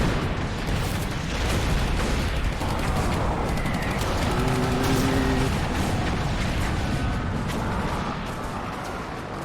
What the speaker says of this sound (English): God, they're just shooting everything.